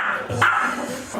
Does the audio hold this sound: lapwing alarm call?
no